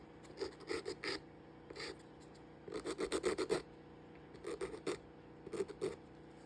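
A nail file rasps over gel nails in short bursts of quick back-and-forth strokes, close and fairly soft, with brief pauses between groups of strokes and no talking.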